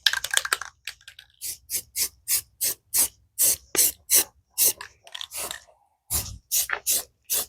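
A spray gun sprays Rust Coat flat black paint onto RV rims in a rapid series of short, sharp hissing bursts, each lasting a fraction of a second with brief gaps between, close and fairly loud.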